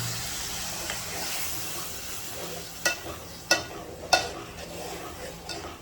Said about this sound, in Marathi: फोडणी द्या.